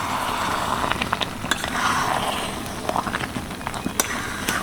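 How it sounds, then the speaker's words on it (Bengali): Raw mango sweet-sour-spicy pickle with spices and black salt gets stirred by hand, soft scraping and wet shuffling over a continuous low crackle, with scattered light clicks of the spoon. "এবার হালকা হাতে ভালো করে নাড়িয়ে নেব"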